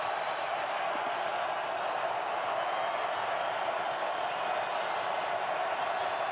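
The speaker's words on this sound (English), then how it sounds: "Crowd back in it" A stadium crowd at a Wyoming vs Boise State college football game, around a third-down play, gives off a steady, loud, continuous roar of cheering that holds without a break throughout.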